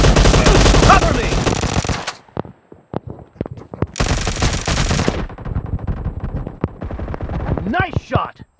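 Machine gun fire in a shooting video game, loud sustained bursts of rapid automatic shots broken by gaps of single cracks and clatter, with a voice speaking near the end.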